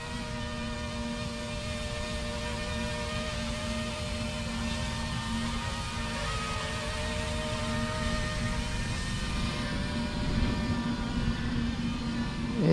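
iNav drone flying back in return-to-home mode, a steady high whine of propellers with a layered harmonic buzz, holding constant and swelling slightly toward the end.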